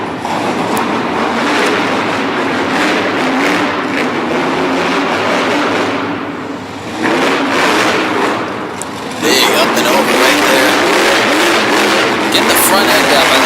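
A monster truck drifts around the back of an arena in Harrisburg, Pennsylvania, its engine roaring loud and continuous with surging, rising revs, while a commentator talks over it.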